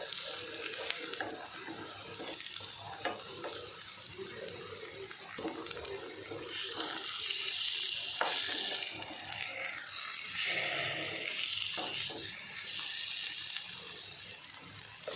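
Raw banana slices frying in a pan for a South Indian fry, a steady close hiss and sizzle that swells louder partway through, with no talking.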